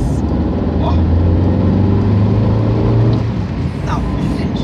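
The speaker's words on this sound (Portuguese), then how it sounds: "Deixa eu passar esse caminhão aqui, que esse caminhão tá me dando coisas" A truck passes close by with a loud, steady engine rumble that swells and then eases, and a voice talks over it.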